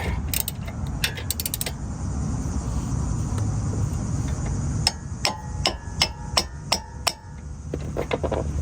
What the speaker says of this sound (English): So let's go ahead and tighten it just a little bit more.